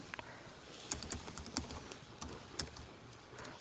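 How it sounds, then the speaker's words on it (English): Typing on a computer keyboard while working in Visual Basic .NET, a steady patter of close, crisp key clicks with a few louder strikes, heard on its own without talk. "I actually find it quite tricky to talk while I'm typing"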